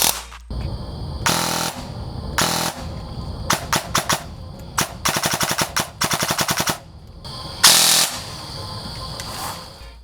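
A custom DSG airsoft gun on an 11.1 V Li-ion battery, firing around 44 rounds per second at about 350 FPS. It lets off several sharp bursts of very rapid buzzing shots, close and loud, with short gaps between strings.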